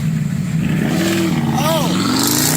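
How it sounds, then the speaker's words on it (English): Engines revving hard in a rev-off between vehicles, a loud close roar with rising and falling pitch, while people talk over it. "A rev off."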